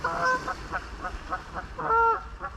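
Geese honk repeatedly nearby at a fishing spot, with several loud nasal calls in an irregular rhythm, the strongest at the start and again near the end.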